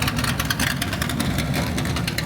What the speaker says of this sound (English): That exhaust is crazy.